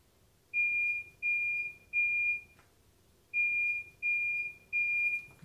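Smoke alarm under test giving two sets of three loud, evenly spaced high-pitched beeps, separated by a short pause.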